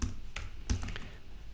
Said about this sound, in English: very bad at typing